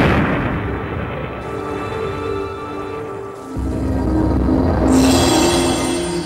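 A nuclear bomb blast rendered as a sound effect: a loud, sustained rumbling roar with layered low booms that swells further near the end and carries on without letup, heard alone with no voices.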